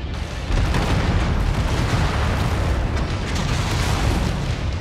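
Dense, continuous roar of mech weapon fire and explosions in the video game MechWarrior 5: Mercenaries, loud and sustained with no clear gaps or separate blasts.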